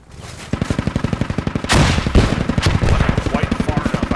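Rapid bursts of automatic gunfire in a video game crackle in a fast steady rhythm, loud and close, with heavier blasts and rumbling mixed in.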